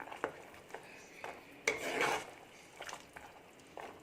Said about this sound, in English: So I'm going to mix the pakoda with the curry.